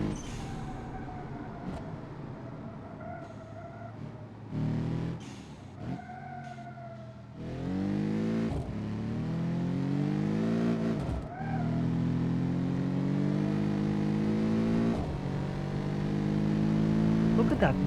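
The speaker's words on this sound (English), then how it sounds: "the blow-off valve noise is just beautiful" A turbocharged car with a dual-clutch gearbox accelerates hard, its engine note climbing in pitch through several quick upshifts, with sharp bursts from the blow-off valve between pulls, loud and close throughout.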